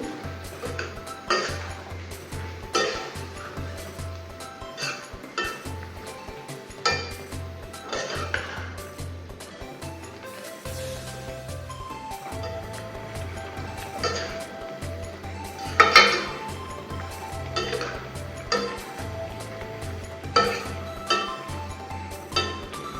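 Chickpeas and ivy gourd being stirred in a pan, a spoon clinking and scraping against the metal in steady repeated strokes, close up, with a soft sizzle underneath and no talking.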